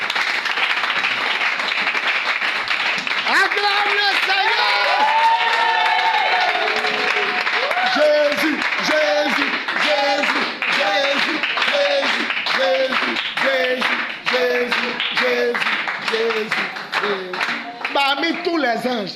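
A church congregation claps and cheers in sustained applause, loud and continuous, with a voice speaking and singing over the crowd throughout.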